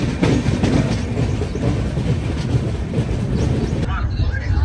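Navajeevan Express train running through a station without stopping, with a loud, close rumble and rattle of the carriages and rapid clickety-clack, dropping to a quieter rumble near the end.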